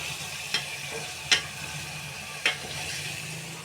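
Cooked tomato pulp simmering in a pan, a soft steady bubbling hiss with three brief scraping strokes of a stirring spoon spaced about a second apart, close and fairly quiet, no voices.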